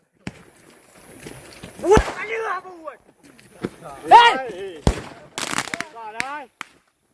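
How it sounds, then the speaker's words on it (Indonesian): Firecrackers set off by villagers to chase away a herd of wild elephants near rice fields in Aceh; several sharp, loud bangs burst out at intervals, with people talking and shouting between them. "sejumlah masyarakat mengusir kawanan gajah liar menggunakan mercon di kawasan Beneh Alu"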